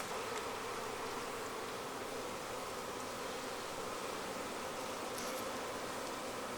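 Steady, dense insect buzzing from honeybees in a hive, a continuous hum close by with no talking.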